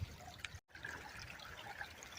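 A small creek trickles steadily at a gold claim with fresh washout, a soft continuous babble of running water close by, with one brief dropout partway through and no voices.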